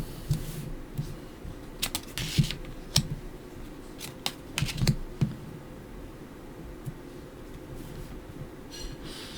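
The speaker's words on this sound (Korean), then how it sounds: "타로 카드 열어볼게요." Tarot cards being opened and handled at close range, heard as scattered crisp clicks, taps and light rustles in short bursts over a low steady room hum, with no talk.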